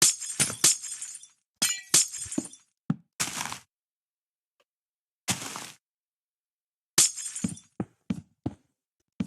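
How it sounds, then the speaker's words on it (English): Glass blocks shatter in Minecraft as a structure is torn down, in a series of sharp, crisp breaks. They come in clustered bursts separated by silent gaps. "Wonderful glass breaking sounds."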